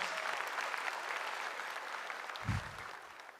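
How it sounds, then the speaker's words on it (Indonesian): Steady applause from an audience at a stand-up comedy show carries on throughout, with a short low thump partway through and no clear talking over it. "respect, tepuk tangan dulu buat dia dong."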